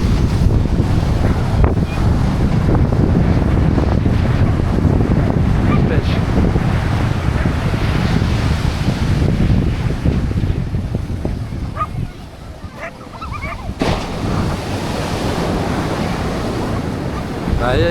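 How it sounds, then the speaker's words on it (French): Ocean surf breaking continuously at Floreat Beach in Perth, a loud steady roar of waves with heavy wind buffeting the microphone throughout. "Il y a des belles vagues."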